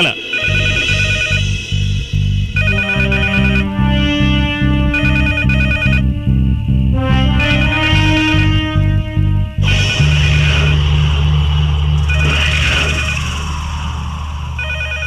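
A telephone rings with an electronic ringtone over a loud, distorted film soundtrack, its repeated bursts running throughout amid music and effects in a Bhojpuri action film scene.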